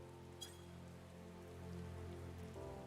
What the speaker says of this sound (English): Raining at night.